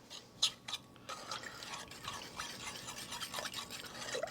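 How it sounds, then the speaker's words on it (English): Water and sugar being stirred together in a pot for simple syrup, a faint scraping, swishing texture with a few soft clinks and taps, fairly quiet and steady throughout, with no talking. "Mix these two together."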